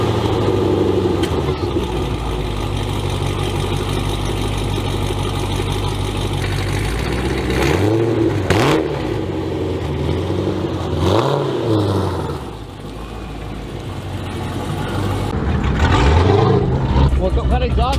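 A car engine fitted with American Racing long tube headers, catless mids and a Hellcat OEM catback idles loudly and then revs in several swelling bursts, with people talking over it throughout.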